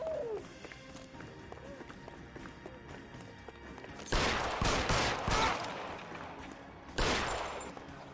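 Pistol gunfire in the video game L.A. Noire: two loud, sharp bursts of shots ring out, the first a rapid cluster and the second a single crack a few seconds later. They follow a quieter stretch of game ambience with some voice present.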